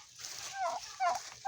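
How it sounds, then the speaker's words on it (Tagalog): Young turkeys let out short rising chirps and trills, three calls in quick succession, fairly close. "Yung maliliit na pabo nandito"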